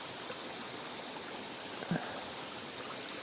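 Steady broadband rushing of a river waterfall about seven metres high, constant and fairly close, with a brief low thump near the end.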